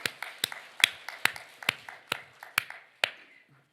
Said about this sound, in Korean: 하나님께 박수 영광 그러리 할렐루야